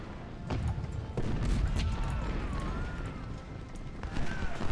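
Artillery and musket fire in the Civil War strategy game Ultimate General: Civil War, several booming reports and crackling volleys over a rumbling battlefield din, with a voice talking throughout.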